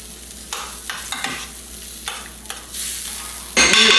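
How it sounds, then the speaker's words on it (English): Roasted tomato basil soup is stirred in a Dutch oven, with a spoon scraping and knocking in a steady rhythm over a soft simmering sizzle that swells louder near the end, close and without talk. "Then I'm going to stir it all up."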